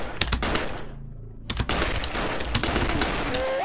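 Rapid enemy machine gun fire in the zombie shooter Zombie Warrior, set in a hospital, rattles in dense loud bursts with a brief lull before the shooting resumes.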